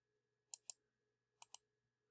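Two pairs of sharp plastic mouse clicks, each pair quick and close, with a pause between pairs, right-clicking on a computer in a quiet room.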